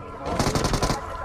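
A rapid burst of automatic gunfire in PUBG, about seven close, loud shots in quick regular rhythm, standing alone over a dull background rumble.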